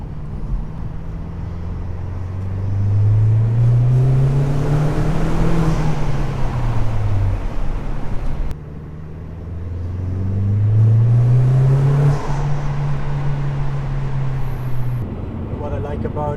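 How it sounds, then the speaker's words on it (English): An Alfa Romeo 159 TBi engine with a cold air intake revs up with a rushing intake whoosh, settles, then surges again, close and loud, a second rev following the first. "There's a big whoosh when you push the throttle"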